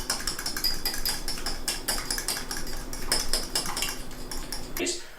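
Salt, garlic powder and pepper, about a tablespoon of each, being mixed in a bowl, heard as rapid, close, clattering metal-on-dish scraping and tapping that runs continuously without talk and stops abruptly at the end.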